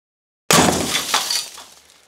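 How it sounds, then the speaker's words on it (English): Tempered safety glass, thrown down, bursts apart in one sudden loud crash that fades into a brief tinkling rain of tiny fragments, with no voices. "the safety of this glass, it explodes into tiny little pieces"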